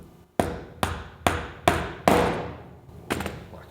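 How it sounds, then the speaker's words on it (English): A bearing is driven into a Hope Pro 3 front bicycle hub with a tool, struck in six sharp metallic blows. They land at an even pace, close and loud, each with a short ringing decay and no talk. "take your bearing, press it in as far as you can, gently rock your tool"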